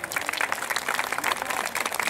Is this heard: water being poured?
no